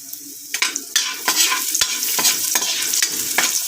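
Garlic and ginger sautéing in a hot pan, a bright continuous sizzle broken by repeated spatula stirs and scrapes, close and fairly loud.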